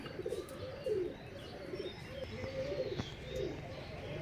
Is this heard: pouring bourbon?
no